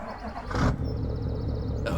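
A pickup truck engine idles with a steady, low rumble throughout in Farming Simulator 2017, with a brief louder rev in the middle; close and continuous, no voices.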